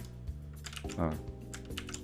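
A few soft keyboard key presses, clicking close by over a steady low hum, with a brief louder tap in the middle.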